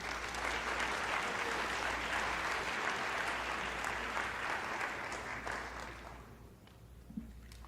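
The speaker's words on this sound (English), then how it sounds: "Please give them a round of applause." A scholarship-night audience applauds steadily for several seconds, a broad, even clapping heard at a slight distance that gradually thins out and fades near the end.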